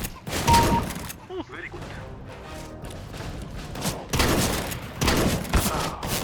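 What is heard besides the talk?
gunshots in the video game Counter-Strike: Global Offensive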